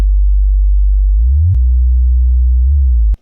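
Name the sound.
loud future bass synth bass drop made in LMMS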